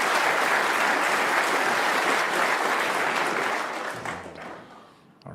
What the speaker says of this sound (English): A round of applause from his son there.